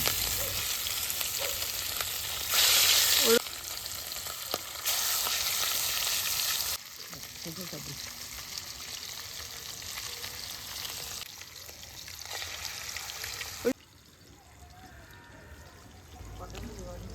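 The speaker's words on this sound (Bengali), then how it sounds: "আগে থেকে মেখে রাখা মাছগুলোকে এক এক করে তেলের মধ্যে ছেড়ে দিলাম।" Marinated fish pieces fry in hot mustard oil in a kadai, with a steady moderate sizzle that shifts in level across the passage.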